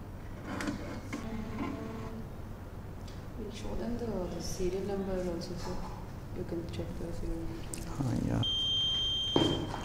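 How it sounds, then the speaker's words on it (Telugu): An electronic voting machine (EVM) gives a steady, high electronic beep confirming a cast vote. The tone starts near the end and runs to the close, partly over ongoing talk and room noise. "బీప్ సౌండ్ రాకపోతే ఓటు పడలేదు."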